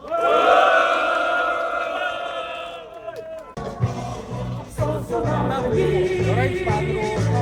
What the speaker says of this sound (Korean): 동지들의 힘찬 박수와 함성으로 시작하겠습니다